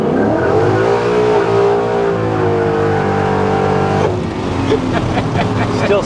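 Car revving hard and accelerating through the gears while being driven aggressively on a test drive, the engine note climbing in long sweeps before a gear change, loud and close with continuous road noise.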